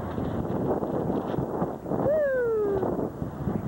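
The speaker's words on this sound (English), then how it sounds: "It's windy." Gusty spring wind buffets a microphone with a broad rushing roar, joined midway by a sliding whistle-like tone that falls gradually.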